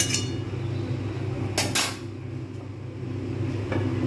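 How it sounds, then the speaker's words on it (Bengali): A lid clatters onto a cooking pot of homemade chicken biryani, making one short metallic clank and rattle against a steady low kitchen hum. "এবার একটুখানি আমি ঢাকা দিয়ে এগুলো ফোটাবো, তারপরে রাইসটা দেবো।"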